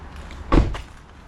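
A truck door shuts with one dull thud, followed a moment later by a softer click of the lock, quiet against faint background noise.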